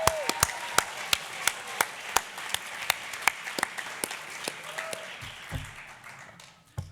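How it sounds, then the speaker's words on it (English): Audience applause at a Milton Academy Martin Luther King celebration, a school event honoring performers and speakers: sharp, loud claps ring out over a broad wash of crowd clapping that holds steady and then slowly thins toward the end. "just a quick round of applause for everyone that performed today or spoke up here"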